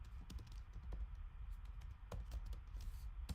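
Soft, irregular clicks of typing on a computer keyboard, close but faint over a low background hum.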